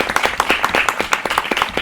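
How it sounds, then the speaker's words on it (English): An audience claps at a senior composition recital, a close, dense burst of rapid handclaps filling the brief moment with no talking. "So could we have a round of applause,"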